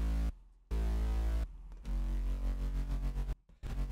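Basic Serum synth bass patches in a future trap style, heard dry without group processing: loud, sustained low bass notes in several held phrases broken by brief gaps, with buzzy harmonics above and no talking.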